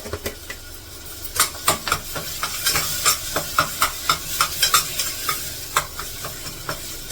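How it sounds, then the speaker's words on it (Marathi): Ground masala paste with a little salt is sautéed in a pan for chickpea curry. A continuous sizzle runs under a brisk, rhythmic series of spatula scrapes and stirring strokes, close and fairly loud, with no speech. "परतून घेते जर एक भर मसाले सगळे छान असे परतून घेतले मी आता"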